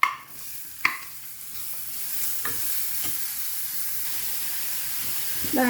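Chopped onions hit hot oil in a pan for a green peas curry, giving a steady close sizzle with a few sharp stirring clicks and a burst of crackle at the end.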